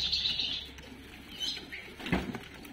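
Faint, scattered chirps of a spotted ranti songbird in a noisy outdoor setting, with a brief louder burst near the end amid background bustle.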